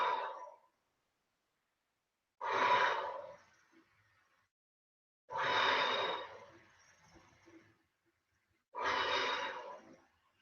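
Slow, deep breaths held through a full plank exercise, four long breathy exhales spaced a few seconds apart, close and clear, with near silence between them.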